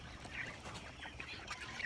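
Grown ducks quacking in a run of rough, overlapping calls that carry on steadily at moderate loudness, with no talking.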